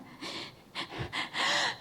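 A voice imitates a crying child's gasping breaths: a quick series of four or five sharp, breathy inhalations in an uneven, hitching rhythm, close and fairly soft.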